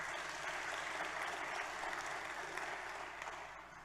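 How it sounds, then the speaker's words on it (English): Sustained applause from the audience at a Holocaust Memorial Day ceremony at the Kigali Genocide Memorial, an even, continuous roar of many hands clapping that fades slightly at the end. "Don't be afraid to give another round of applause"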